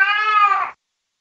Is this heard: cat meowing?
yes